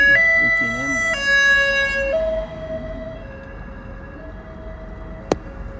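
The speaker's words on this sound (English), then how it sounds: "What is that noise? Sound like an ambulance." An ambulance siren during a morning drive around New York City wails in rising and falling tones, loud at first and then fading as it moves away, ending with a brief sharp knock.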